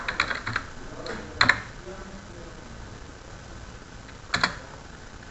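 Keys clatter on a computer keyboard during spreadsheet work, with a few scattered taps and two short clusters of clicks, including the F4 key pressed twice, fairly faint and close, with a quiet voice faintly present.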